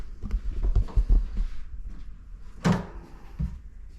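A hotel room door in Japan is opened, giving a sharp latch clack and a thud partway through, set among soft footsteps and handling noises close by.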